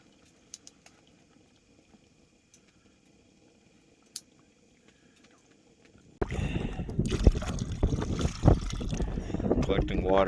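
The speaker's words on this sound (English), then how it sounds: "Collecting water to filter out later." Water being scooped and collected at a camp on a frozen lake, heard as close sloshing, trickling and splashing that starts suddenly after a near-silent stretch with faint ticks and continues loudly to the end.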